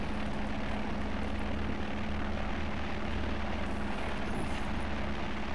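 A simulated airplane drones steadily on approach to land in a flight simulator, its engine hum continuous and even, with a low tonal whine throughout and no voices.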